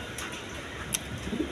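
Soft cooing from a pair of Iranian pigeons kept in a loft, low and faint beneath steady background noise, with a few brief higher chirps.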